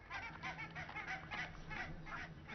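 Geese calling from Arctic cliffs, with a dense flock clamour of overlapping honks and cackles carrying steadily, faint and somewhat distant.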